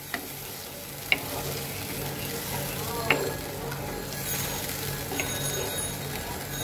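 Raw mango chutney sautéing in a pan gives a steady, close sizzle after a little water goes in, with a few light clinks of a spoon against the pan.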